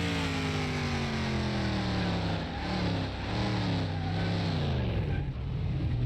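Plymouth Road Runner with drum brakes during a brake test, its engine note falling steadily as the car slows, then rising again, heard close and continuous with faint talk.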